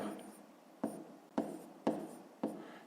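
Pen or pencil writing by hand while working through a fifth-grade math fraction exercise, a soft continuous scratching with four sharper strokes or taps spaced about half a second apart, close and quiet, with no talking.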